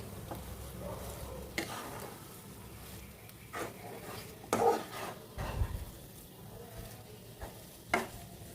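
Mankochu (giant taro) sizzling in a pan over low gas, a quiet frying hiss broken by several scraping, clattering knocks as the pieces are turned over, with no voices.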